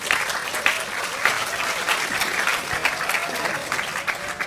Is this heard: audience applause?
yes